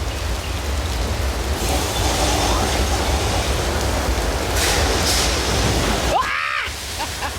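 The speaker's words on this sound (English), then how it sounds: "it looks like there's a flash flood headed directly for us" A simulated flash flood on the Universal Studios Hollywood tram tour roars as a loud, continuous rush of water, with a sharp whoosh near the end and voices faintly mixed in.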